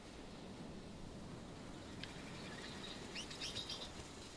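Birds chirping by the ocean in a Pacific survival game, faint scattered tweets over a steady wash of background noise, growing slightly busier toward the end.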